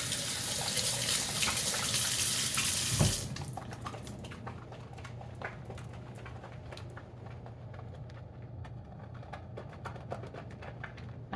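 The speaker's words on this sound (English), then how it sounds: "I'll show you how it lathers" Bar of cold process soap lathered under a running tap, a steady rushing gush that cuts off after a few seconds, followed by soft wet squishing and rubbing close by.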